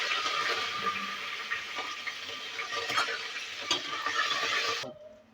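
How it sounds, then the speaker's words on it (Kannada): Curry leaves and chillies hit hot oil with cumin seeds in a pan, making a loud, close, continuous sizzle and crackle broken by a few stirring clicks, then cutting off abruptly near the end. "ಮತ್ತು ಕರಿಬೇವು ಹಾಕ್ತಿದ್ದೀನಿ, ಮೆಣಸಿನ್ಕಾಯಿ"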